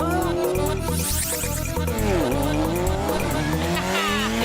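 Cartoon motorbike engine whines and revs loudly with a sustained, sliding tire screech over it, continuous and close throughout, with a faint voice briefly under the noise.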